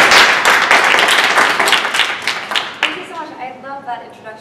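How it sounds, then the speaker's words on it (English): Audience applause greets a speaker being introduced at a startup talk, dense clapping loud at first then thinning into scattered claps, with a voice speaking over the tail end. "So if you can please have a big round of applause for Louise."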